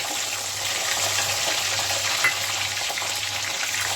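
Fennel seeds, dried red chillies and garlic sizzle steadily in hot oil in a pan, a close, even crackling hiss with one small pop partway through.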